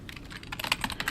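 Rapid computer keyboard typing in the Dysfunctional Systems video game, a mentor tapping at keys in a library, with clustered clicks growing slightly busier and louder toward the end, no voices.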